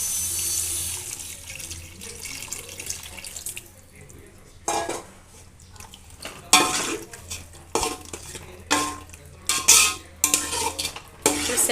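Tamarind juice poured into a pot of partly cooked sambar vegetables with drumsticks and brinjal, heard as several splashy liquid pours and stirring clatters in bursts, close and fairly loud, with no talking.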